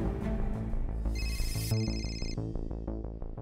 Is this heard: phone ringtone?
yes